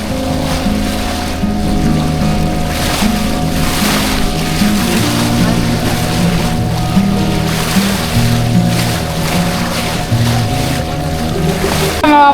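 A boat out on the Arabian Sea near Vengurla Rock makes a loud, continuous engine drone, with rushing water and wind around it the whole time.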